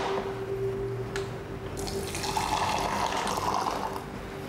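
Hot water runs and pours into a cup or vessel, a continuous close splashing stream over a steady low hum.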